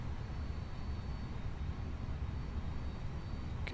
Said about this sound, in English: it literally sounds like the plane is already started